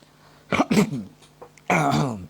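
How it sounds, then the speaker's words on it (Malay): A couple of short, harsh coughs sound close by, followed by a brief burst of voice, with quiet gaps in between. "Maaf batuk."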